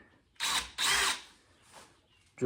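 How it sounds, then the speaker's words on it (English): Two short bursts of a power drill whirring close by as it bores mounting holes for lights on a 1969 Glasspar Tacoma 14 boat, followed by a quieter whine and a brief final burst. "So I'm gonna drill a couple holes here."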